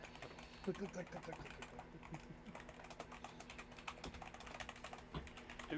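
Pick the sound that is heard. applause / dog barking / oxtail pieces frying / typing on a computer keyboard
typing on a computer keyboard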